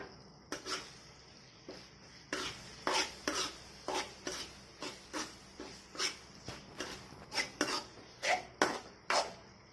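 Ginger garlic paste stirred in a pan for chicken gravy curry, a metal spoon scraping and clinking against the pan in steady, evenly spaced strokes, fairly quiet and close, with no talking.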